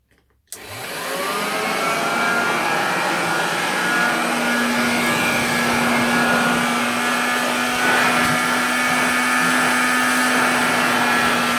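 A Hoover Junior 119 bagged upright vacuum cleaner, running with no belt fitted, switches on with a sudden start and then roars steadily at close range, a constant motor whine with a high steady tone and no talking.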